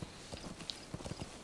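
Horse hooves clip-clopping in Metal Gear Solid 5, a steady run of soft rhythmic hoof beats passing at a moderate distance, faint and unaccompanied by talk.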